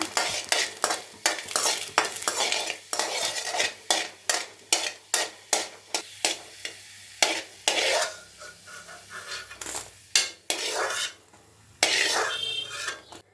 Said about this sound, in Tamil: இதோட பூண்டு, நல்லா செவர வறுத்துக்கோங்க